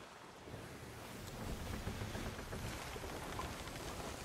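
Steady wind and rushing sea noise aboard a sailing ship in the pirate game Sea of Thieves, a broad continuous roar that swells slightly and then holds, with no voices.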